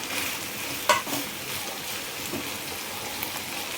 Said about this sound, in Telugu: సో ఇప్పుడు ఆల్రెడీ కట్ చేసి పెట్టుకున్న టమాటా కూడా వేసుకోవాలండి.